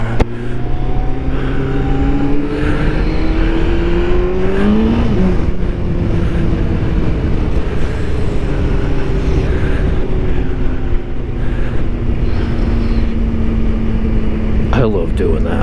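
Kawasaki ZX14R motorcycle riding through woods, its engine droning steadily and loud throughout with smooth pitch rises and falls as it revs and shifts, a voice talking over it.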